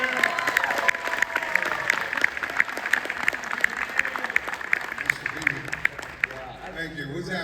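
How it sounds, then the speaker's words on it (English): Audience at a Dragon Con 2024 Q&A panel breaks into sustained applause and cheering, loud and crowded, with a voice over the crowd. "One more round of applause."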